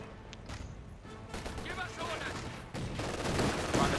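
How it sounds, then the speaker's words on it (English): Battlefield gunfire from the Company of Heroes 2 strategy game, a dense stretch of rifle and machine-gun bursts with crashes that grows louder toward the end, running under a caster's commentary. "Jürgen, where did you learn to shoot?"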